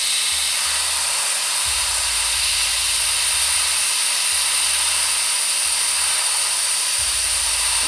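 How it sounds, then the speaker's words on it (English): An airbrush sprays paint at reduced pressure, giving a loud, continuous airy hiss close by for the whole stretch, with faint low pulses underneath and no talking. "I decreased the pressure in my airbrush to let better control"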